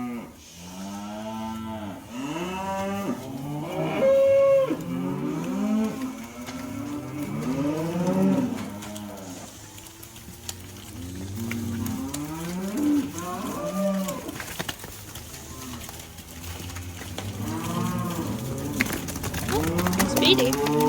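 Cattle newly arrived on a British farm moo repeatedly and loudly, several drawn-out calls overlapping one another at close range throughout, with a steady outdoor background.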